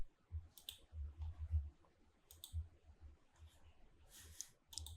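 Computer mouse clicks during a VMware installation of macOS Sequoia, a handful of sharp, close, quiet clicks spread irregularly over a few seconds with no talk.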